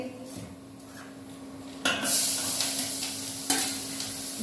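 Sambharo vegetable relish being tempered in hot oil, a quiet sizzle that bursts louder about halfway through as the vegetables hit the pan, with stirring scrapes and a steady hum underneath.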